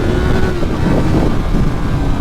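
Yamaha MT03 motorcycle engine revving hard in second gear at around 9,000 rpm, a loud, steady, sustained drone close to the microphone, with wind buffeting throughout.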